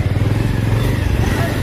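A motorcycle rides close past a stopped vehicle on a narrow village road, its engine a loud, steady rumble with rattling and wind noise throughout.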